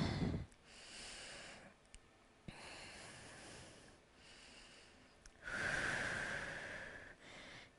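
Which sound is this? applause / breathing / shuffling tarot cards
breathing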